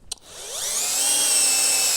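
A Milwaukee M12 4-in-1 cordless screwdriver whirs up to a loud steady high-pitched spin after a brief click, as a square head screw strips.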